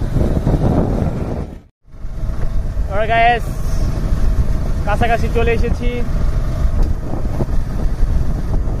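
Wind roars steadily past a Suzuki Gixxer SF Fi ABS motorcycle on the move, a dense broadband rush that drops out for a moment near the start, with someone talking over it.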